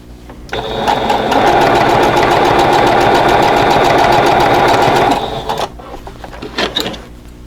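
A sewing machine stitches seams on a quilt block in one loud, close, continuous run of rapid mechanical chatter lasting several seconds, then stops into soft handling noises.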